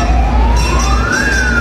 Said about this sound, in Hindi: फायर ब्रिगेड आ गई भाई